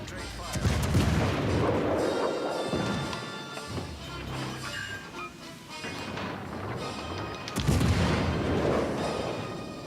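Heavy naval gun salvos between two Tulsa cruisers in World of Warships: Legends roar out as loud, booming blasts with a rolling rumble, with one big volley early on and another near the end.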